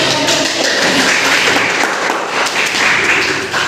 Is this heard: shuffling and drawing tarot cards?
no